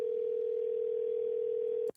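A telephone line gives a steady, unbroken tone while a call is placed to Andrew, lasting almost two seconds before cutting off abruptly.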